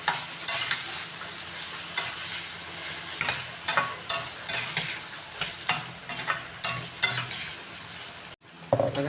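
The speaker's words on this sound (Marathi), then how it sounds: "आता टाकूया हे कारली, थोडीशी हे मसाल्यामध्ये कारलं परतून घ्यायचं।" Bitter gourd being stirred and fried in masala in a pan, a soft continuous sizzle broken by repeated scraping stirs in an irregular rhythm, close and fairly quiet, ending with a brief clatter.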